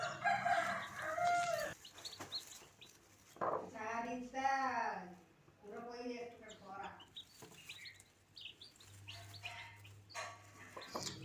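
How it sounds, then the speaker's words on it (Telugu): Newly hatched chicks, about half an hour old, peep in high chirps beside a hen clucking in low, repeated bursts, close by, with quieter gaps between the calls. "కోడి పిల్లలు అయితే చూడండి ఇప్పుడిప్పుడే పుట్టినవి అయితే."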